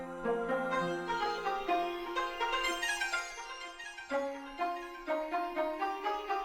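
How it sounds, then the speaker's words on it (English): Sped-up, partly reversed piano lead sample made for a hip-hop beat, playing alone as a bright, rapid run of melodic notes with smeared, swelling attacks and repeating phrases throughout. "I took that same piano lead and I upped it in speed and reversed it for certain parts"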